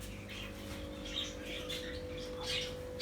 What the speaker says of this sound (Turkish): Bu tarafta kuşlarımız var.